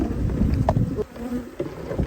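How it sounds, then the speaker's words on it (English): An angry honey bee colony buzzes loudly and continuously up close during a removal from a decade-old nest, a dense steady drone with individual bees whining past. "The noise up here is absolutely deafening."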